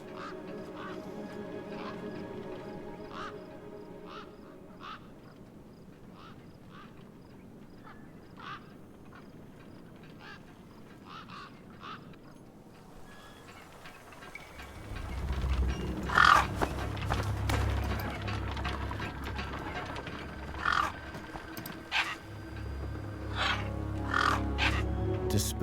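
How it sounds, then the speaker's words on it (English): Crows cawing over a desolate wasteland in a role-playing game: repeated harsh caws scattered across a steady ambient bed, with a deeper rumbling drone building in the second half. "Then, I heard them. Gang birds, scavengers"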